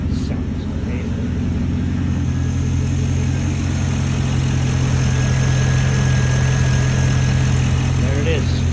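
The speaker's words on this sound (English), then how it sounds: "Truck idles so much smoother now. It sounds amazing." Chevrolet 5.3L Vortec truck V8 idling smoothly after an intake manifold gasket repair, a steady close low rumble with an even, unbroken drone and no revving.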